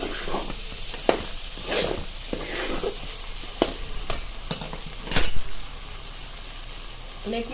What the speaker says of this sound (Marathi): ही फोडणी आहे ती चांगली परतून घ्यायची